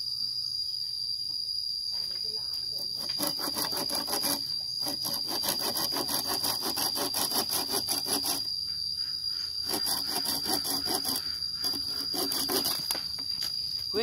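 Wood is being sawn by hand in a forest, a rhythmic rasping back-and-forth stroke repeating in bursts with short pauses, close by, while a high steady insect drone hums continuously behind it.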